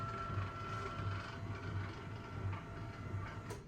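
A sit-stand desk mechanism adjusting its height, giving a steady mechanical whir with a faint repeating clicking rhythm, moderately quiet and continuous, with no talk over it.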